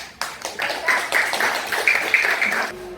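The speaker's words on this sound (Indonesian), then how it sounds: "Tepuk tangan untuk" Classroom applause from pupils in a lesson, a short burst of quick, uneven clapping close by that runs for a few seconds and then stops.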